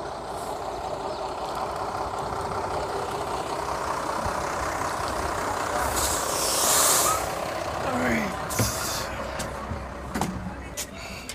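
A bus at a border crossing between Zambia and Congo idles with a steady engine rumble and gives a loud hiss of air brakes midway, followed by a few sharp knocks and clatters, with people's voices murmuring underneath.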